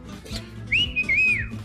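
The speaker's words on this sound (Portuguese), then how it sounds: "Curtiu esse assobio?" A person whistles a short warbling melody, loud and close, a single sustained tune with a wavering pitch rising and dipping, over faint background rumble and no talk.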